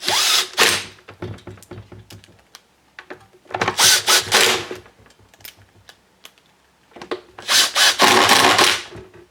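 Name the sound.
impact driver driving screws into Stihl leaf blower cover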